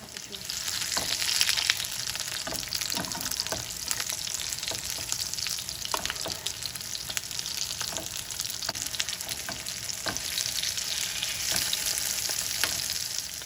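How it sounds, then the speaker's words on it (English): Aloo tikki potato pancakes sear in hot oil over high heat, a continuous close sizzle scattered with small crackles and pops. "We're cooking this on high heat with the oil, and these should be nice and crispy and soft on the inside in no time"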